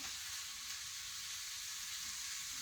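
Mince fries in a very hot pan for spaghetti bolognese, giving a steady, even sizzle with a soft hiss and faint stirring scrapes, close by and quiet, with no talking.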